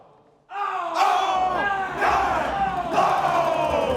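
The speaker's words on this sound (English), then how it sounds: "A very good crowd here on the home side at Westlake Stadium." A home-side crowd at a Westlake Stadium high school football game bursts into loud, sustained cheering and yelling, swelling in waves over several seconds just before kickoff.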